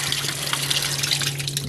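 Water pouring steadily and close while kitchen cloths are washed by hand, a continuous gushing stream over a low steady hum.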